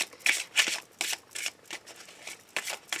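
Tarot or oracle cards are shuffled for a reading, a quick series of crisp riffling bursts repeating about every half second, close and clear with no voices.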